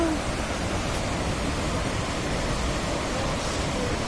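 A waterfall on a Carpathian route near Yaremche pours a steady, dense roar of rushing water, loud and close, with no break.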